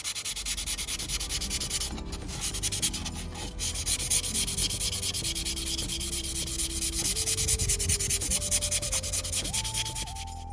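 Sanding a primed plastic model car body, a Fujimi BMW E21 320is kit, produces a steady close scratchy rubbing that continues without pause, with a faint musical tone playing in the background.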